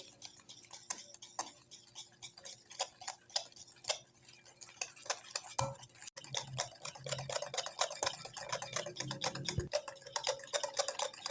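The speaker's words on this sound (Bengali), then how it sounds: "পাউডার চিনিকে ডিমের সাথে খুব ভালো করে মিশিয়ে নিতে হবে" A whisk or spoon beats powdered sugar into eggs in a bowl, producing rapid, irregular clinking taps against the bowl that grow quicker and denser toward the end, heard up close with no talking.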